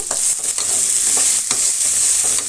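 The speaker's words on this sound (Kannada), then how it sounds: "ಈರುಳ್ಳಿ ಫ್ರೈ ಆಗಿದೆ" Onions with curry leaves and salt frying in hot oil and stirred in a pan, giving a loud, steady sizzle broken by repeated scraping stirs, close up with no talking.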